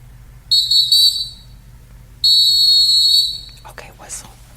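Two loud, shrill whistle blasts nearby, the first about a second long and the second longer and steady, over a low background hum. A faint voice follows.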